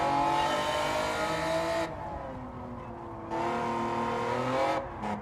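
Race car engine in Gran Turismo 7 howls at high revs, then drops pitch in abrupt downshifts before climbing again, loud and close with no talking.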